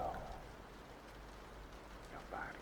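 Soft steady rain forms a faint, continuous hiss beneath a deep-sleep relaxation recording, with hints of a quiet voice drifting over it.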